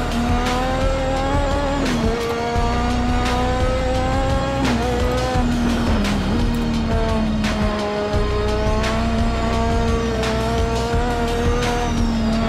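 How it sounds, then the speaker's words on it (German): Lotus 98T turbo Formula One car racing in Assetto Corsa, its engine screaming loud and continuous with repeated gear-change dips and tire squeal at several moments. "Ihr müsst wirklich mal auf den Turbo hören, auf den Motor."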